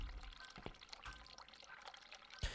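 In the video game The Cat Lady, water pours and trickles very faintly, with a few soft drips and splashes in a hushed setting.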